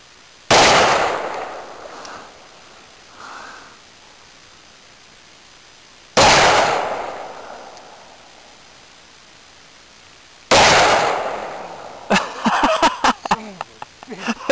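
S&W .357 Magnum revolver gunshots: three loud, sharp reports spaced several seconds apart, each ringing out and decaying, with clatter and handling noise after the last shot.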